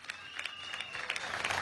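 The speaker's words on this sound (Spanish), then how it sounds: "Un aplauso desde aquí" Brief applause from a crowd at a Venezuelan presidential housing handover ceremony, moderately distant clapping rising in a dense patter.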